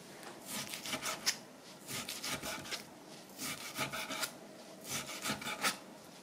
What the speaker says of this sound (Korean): 고기를 썰어 보겠습니다. 이거는 돼지고기예요.